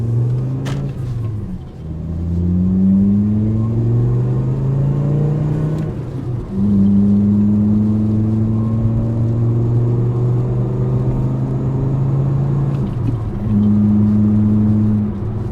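A 2.5L VW Golf engine fitted with a USP Motorsports downpipe revs up close and loud, rising in pitch, dropping back, and climbing again over a steady throaty rumble.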